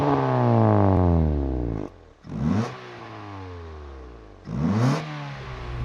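A 1994 Honda Civic with a valved exhaust revs outside: a long rising and falling engine sweep, a short drop to near quiet, then two more sharp throttle blips with loud crackling peaks, close and prominent.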